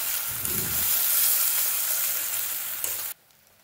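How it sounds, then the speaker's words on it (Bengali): Onion frying in a little oil in a wok, a loud, even sizzle with a few stirring strokes that cuts off abruptly near the end. "এখানে যে পেঁয়াজটা রেখেছিলাম সেটা আমি এর মধ্যে দিয়ে দিলাম, দিয়ে আমি এগুলো ভেজে নেব"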